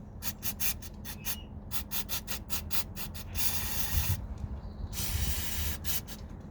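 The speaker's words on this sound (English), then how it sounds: "just going to use some brake cleaner, spray these bolts" Brake cleaner sprayed from an aerosol can onto engine bolts of a 2012 Vauxhall Corsa D 1.2 with a slight oil leak: two sustained hissing bursts, close and fairly loud, after a run of short rapid rubbing strokes.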